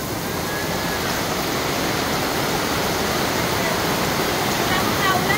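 Heavy rain pouring down during flooding, a dense, steady roar of water that stays loud and unbroken throughout.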